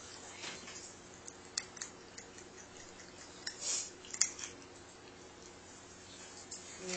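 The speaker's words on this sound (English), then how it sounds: "Doesn't it sound so, like, crunchy when she eats?" A cat eating crunchy dry food up close, with irregular small crunches and clicks scattered over a faint steady background, a couple of louder bites standing out.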